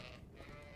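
Sheep bleat in a cold winter farm setting while they are being tied up, a steady noisy blend of animal calls under faint background hum.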